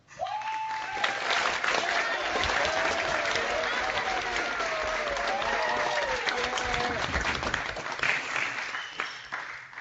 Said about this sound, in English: join me in giving a warm round of applause to Pro Football Hall of Famer Mr. Steve Largent